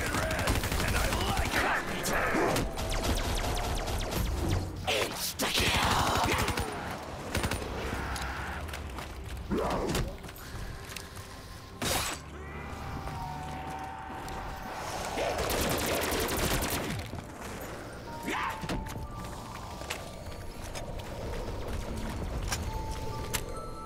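Gunfire on the Call of Duty zombies map Gorod Krovi, repeated bursts of automatic and single shots mixed with mechanical clatter and game effects, fairly close, with voices speaking at moments between the shooting.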